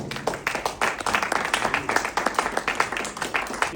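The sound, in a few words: audience applause for next speaker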